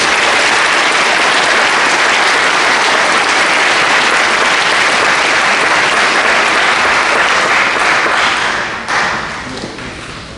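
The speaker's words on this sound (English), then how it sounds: "Let's give them a round of applause, please." A large crowd at a high school graduation ceremony gives loud, sustained applause for the Board of Education members. It carries on steadily and begins to fade near the end.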